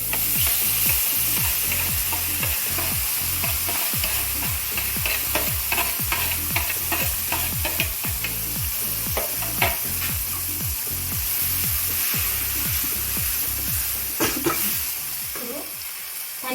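Grated amla, Indian gooseberry, sizzles steadily in hot oil while a spoon scrapes and stirs the pan in repeated strokes, close and continuous without speech.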